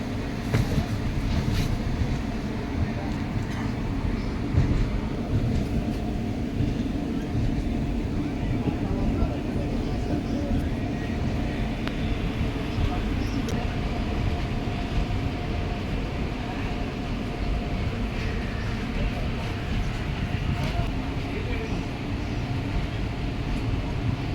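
The Kottayam–Nilambur Express rolls into Edappally railway station around 6:54 in the morning, a continuous low rumble and rattle heard from on board, with occasional voices in the background.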